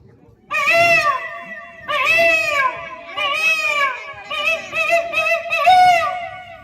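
A voice imitates a peacock's call with five loud, drawn-out wailing cries, each separated by a short pause.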